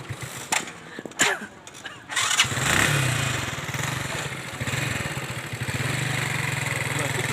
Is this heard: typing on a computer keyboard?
no